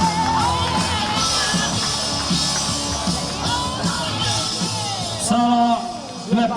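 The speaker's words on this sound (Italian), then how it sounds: "facciamo un applauso" Crowd cheering and yelling at a youth boxing exhibition between Sardinia and Piedmont, a loud steady roar of voices with whoops throughout, and someone speaking over the end.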